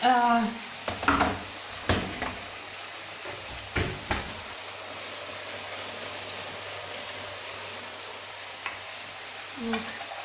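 Baked potatoes turned over in a pan beside chicken breast with lemon, a steady frying sizzle running throughout with a few sharp scraping and knocking bursts near the start and a soft clatter near the end, a brief voice at the opening.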